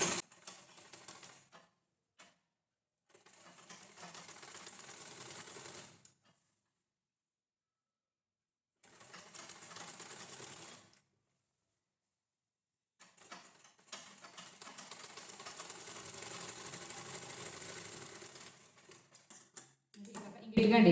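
Machine stitching a quarter-inch double seam on a normal blouse, sounding as three separate bursts of steady, fast mechanical rattling separated by pauses, moderately loud and close.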